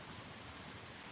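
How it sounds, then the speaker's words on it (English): A steady, dense roar of heavy rain pouring down, constant and enveloping without breaks or voices. "Nope, that was actually the downpour."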